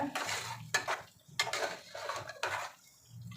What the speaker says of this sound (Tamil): சிக்கன் எல்லா சைடும் மசாலா போட்டாகணும். அந்த மாதிரி நல்லா கலந்து விட்டுக்கோங்க.